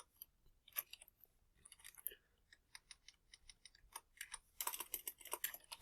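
Clicky keystrokes on a computer keyboard, in short irregular bursts, sparse at first and then a denser run of rapid taps near the end, close and fairly quiet, with no voices.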